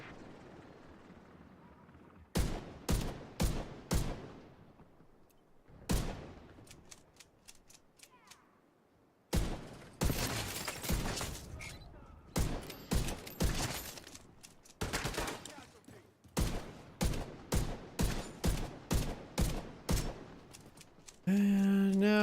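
Bursts of gunfire from The Division 2, with sharp shots fired in rapid clusters and short volleys, separated by brief lulls and growing denser and louder toward the end.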